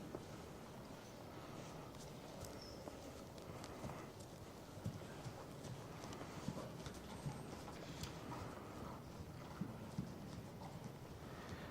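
Steady clip-clop of a horse trotting in an even rhythm, hoofbeats moderately close over a soft, noisy background.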